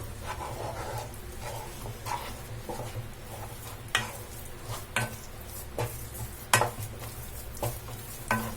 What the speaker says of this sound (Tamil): ஸ்டவ் வந்து சிம்ல வச்சுட்டு இதை வந்து நல்லா மிக்ஸ் பண்ணிக்கலாம்